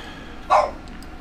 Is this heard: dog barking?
yes